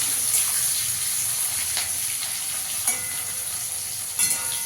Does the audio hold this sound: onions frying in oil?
yes